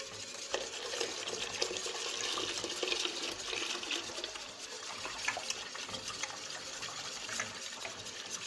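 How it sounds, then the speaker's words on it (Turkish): A vanilla-flavoured kazandibi mixture is poured slowly into warmed milk in a pot, giving a steady close liquid rush and gentle stirring swish with no talking. "şimdi bunu yavaş yavaş ısınmış sütümüze ilave ediyoruz"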